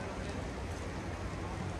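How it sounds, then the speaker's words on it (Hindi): Light rain falls steadily in Haridwar, a continuous soft hiss and patter without distinct drops standing out, faint and even throughout with no talking. "यहाँ पे हो रही है बहुत तेज़ बारिश बहुत तेज़ हो रही थी अब धीरे हो गई है"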